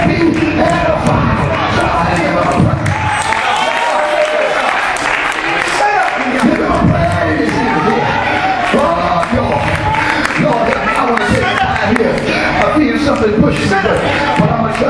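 A church congregation cheers, claps and praises God in a large, dense, continuous roar of voices and applause, with shouting and speech mixed throughout the whole stretch.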